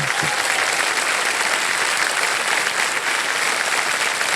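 Loud studio audience applause on a Hindi television quiz show set, a dense, steady wash of many hands clapping that fills the whole stretch without a break.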